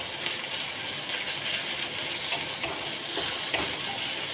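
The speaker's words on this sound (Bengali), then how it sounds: "রসুনটা এবারে একটু ভালো করে ভেজে নেব।" Garlic frying in a pan, a steady close sizzle and crackle that holds evenly throughout with a few faint clicks, no talking.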